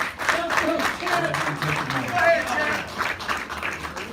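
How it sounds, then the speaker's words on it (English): An audience at a post-fight boxing press conference applauds for the boxer Tank, steady clapping heard under loud shouting and cheering voices close by. "let's give this young man a great big round of applause"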